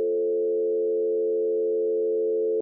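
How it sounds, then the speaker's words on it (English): A synthesized musical note with vibrato at a rate of 87 sounds as one steady sustained tone with stacked harmonics, loud and alone, holding evenly for nearly three seconds before cutting off abruptly. "Here's another note with vibrato frequency 87."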